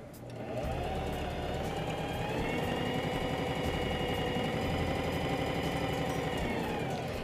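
A sewing machine sews the crotch seam of a pair of children's shorts, starting up and then running with a steady, fast mechanical hum and rattle, close and continuous with no one speaking.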